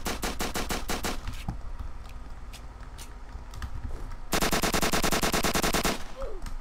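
Automatic gunfire in the Roblox-style survival game Apocalypse Rising, with a rapid burst of repeated shots, a lull, then another loud sustained burst of rapid fire close up.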